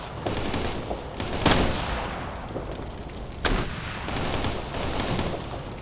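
Gunfire in the video game Operation Flashpoint: Red River, with sharp rifle shots and bursts cracking over a steady battlefield rumble, two loud reports standing out near and the rest scattered at mid distance.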